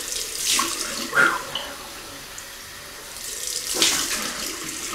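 Cold water runs from a tap into a sink in two short bursts, a soft splashing rush that swells and fades, close by with no talk.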